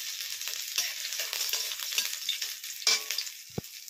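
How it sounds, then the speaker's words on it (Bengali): Chopped ginger sizzles in hot mustard oil in a heated wok, a steady close crackle with a brief louder spatter and a soft stir near the end; nobody speaks. "সর্ষে তেল গরম হয়ে গেছে, এবার এর মধ্যে আদা কুচি দিয়ে দিলাম"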